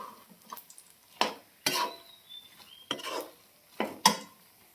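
Cooked lentil puran filling being mashed through a sieve, with repeated scraping and knocking strokes of utensil against metal, close and intermittent, interrupted by pauses.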